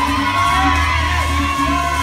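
A crowd at a children's beauty pageant in Bolivia cheers, whoops and shouts loudly and continuously for the contestants, close and dense throughout.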